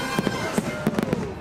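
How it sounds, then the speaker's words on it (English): Fireworks bursting during Disney's Halloween Screams show at a theme park, a rapid string of sharp booms and crackles packed closely together, loud and near. "I love the fireworks that are like half white and half dark."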